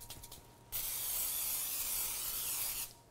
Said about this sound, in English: I have a 9x13 pan, which I am going to spray with cooking spray.